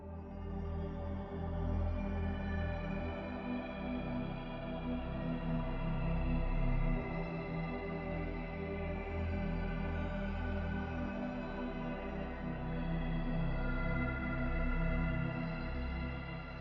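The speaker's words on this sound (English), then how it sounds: "The pad sounds like this." Soft, sustained synth pad with a shimmering aurora-like character, held evenly and fairly quiet throughout with no other sounds.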